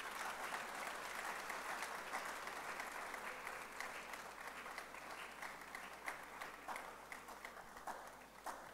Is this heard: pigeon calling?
no